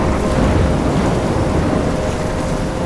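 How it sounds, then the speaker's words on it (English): A thunderstorm in the video game Life is Strange: a dense, steady roar of heavy rain and rumbling thunder fills the whole stretch, loud and unbroken, with no voices. "I'm trapped in a storm?"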